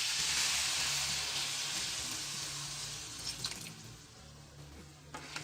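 Wine poured into risotto rice sautéing in a pan, giving a steady broadband sizzle that is loud at first and gradually settles, with a few small liquid splashes and bubbles toward the end.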